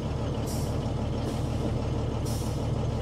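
A Renault Midliner 4x4 truck releases air as its differential locks disengage: three short hissing bursts rise over a steady, close engine idle, with no voices.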